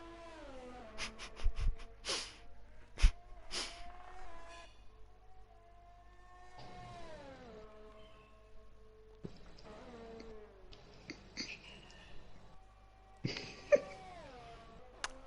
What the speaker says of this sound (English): Let's have some silence and listen to the engine purr.